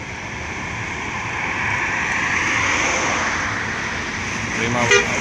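A Prima Abadi Trans intercity bus on the Trans-Sumatra road passes in morning traffic, a broad steady engine and road roar swelling and fading, with a brief horn-like blip near the end and faint voices.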